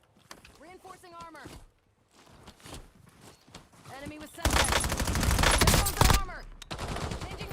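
Video game gunfire bursts out loud and dense in the second half, a sustained volley of shots over voices, with gamers talking tensely throughout the earlier stretch.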